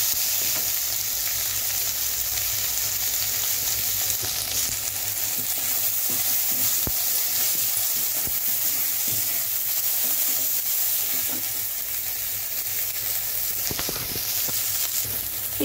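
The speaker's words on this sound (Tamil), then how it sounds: "1 டீஸ்பூன் அளவுக்கு சேர்த்துட்டு இப்போ இதையும் நல்லா வதக்கிக்கணும்" Ginger-garlic paste sautés in a hot pan for a spiced pea sundal, giving a continuous, even sizzle with faint stirring scrapes and no voices.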